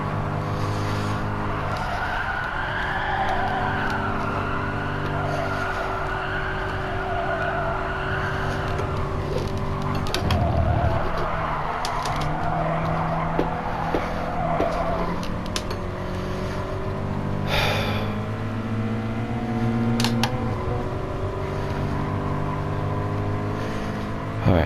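Race cars in the video game GT Sport roar steadily close by, engines droning and shifting pitch as other cars pass and tyres squeal briefly, with no talking.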